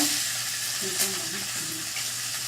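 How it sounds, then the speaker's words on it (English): Quail with bones in, laid skin side down in a hot pan during a cooking class, giving a loud continuous close sizzle with a brief crackle burst, while a voice murmurs faintly underneath. "we'll start searing those in"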